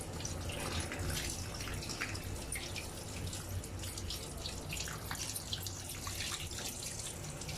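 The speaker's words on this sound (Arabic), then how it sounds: "طبعا انا ببقى فاتحه الميه سرطوب بسيط كده عشان انضف بيه السمك" A kitchen tap left running in a thin stream while fish is cleaned, giving a steady, continuous trickle and splash of water close by, with no talking.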